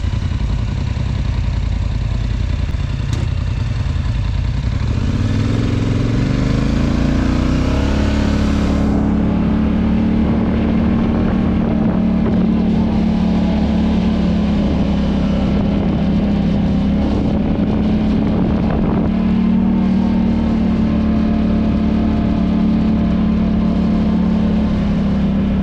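Motorcycle riding on the Pinnacle Creek and Indian Ridge trails: a loud, steady engine drone that rises in pitch as it pulls away, then holds a throttled hum with wind rush over the microphone, no speech.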